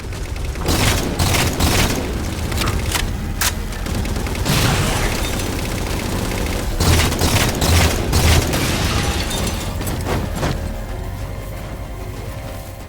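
Halo 4 gameplay where a railgun fires at phantoms, with heavy booming blasts and bursts of gunfire in clusters over a rumbling battle background.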